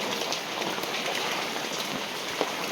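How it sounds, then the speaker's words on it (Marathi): A downpour over flooded Nashik streets keeps up a constant, close roar of raindrops hitting the ground, with one slightly sharper splash near the end. "पूर्ण नाशिक भरलंय पावसाने."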